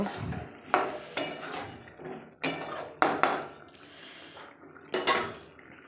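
Meat is stirred in a pan until the oil separates, producing repeated scraping strokes and clanks of a spoon against the pan, coming in close bursts with short pauses between them.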